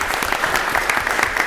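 Audience applause during a board of education meeting, a steady dense wash of many hands clapping at moderate volume, continuous and even throughout with no voices standing out.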